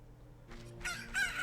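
A cucco chicken from the video game Zelda Ocarina of Time crows and clucks in a short burst over a low game hum, moderately loud with no talking.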